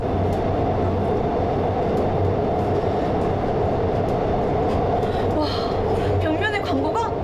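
A subway train running through a tunnel, a loud constant roar of wheels and rushing air with faint rhythmic clatter, and a voice speaking briefly over it near the end.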